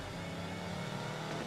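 A Shelby Cobra 427 engine revving in Need for Speed Most Wanted, a steady loud roar that fills the whole clip with no break, heard alone without voices.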